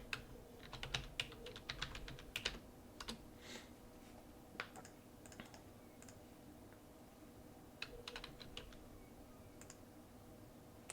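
Password being typed on a computer keyboard during a SQL Server login, with scattered, irregular key clicks in short bursts, close and fairly quiet with no talking.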